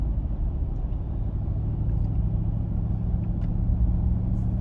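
A car eases along a road on the Ironman Louisville 70.3 run course, a steady low engine and tire rumble heard from inside the cabin, even and continuous throughout.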